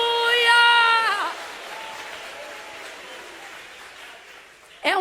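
A church congregation's applause spreads as a soft, diffuse wash of clapping. A loud sustained voice rises and falls over it at the start, and another voice cuts in at the end.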